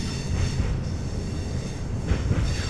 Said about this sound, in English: We're driving a Class 323 3-car electrical multiple unit